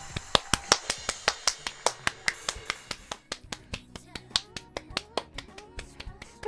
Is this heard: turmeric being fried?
no